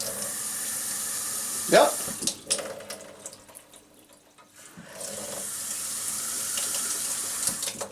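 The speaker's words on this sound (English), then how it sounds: "we can go ahead and install the aerator, and let's see what it looks like with that on" Water runs from a kitchen faucet fitted with an aerator in a soft, steady hiss that stops briefly midway and then resumes, with a short spoken word near the start.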